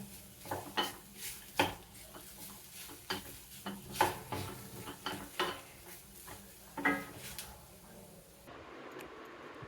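A dry fruit mixture frying in a pan on low heat, with intermittent scrapes and metallic clinks of a spatula over a faint, soft sizzle, fairly quiet throughout.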